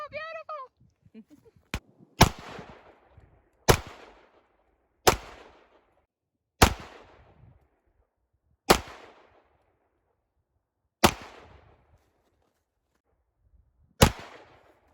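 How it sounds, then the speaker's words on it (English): Seven sharp Glock 17 pistol shots ring out one at a time at irregular intervals, each loud crack followed by a short echoing decay, with a brief voice at the very start. "Can't miss with this 17 if you try"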